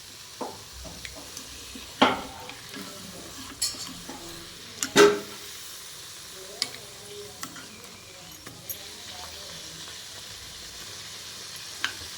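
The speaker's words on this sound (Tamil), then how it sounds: "நான் பூரியை போட்டுட்டேன். எப்படி போகுது நீங்களே பாருங்கள்." Poori frying in hot oil, a soft steady sizzle with a few sharp scrapes and clinks of a utensil against the pan, close by and with no talking.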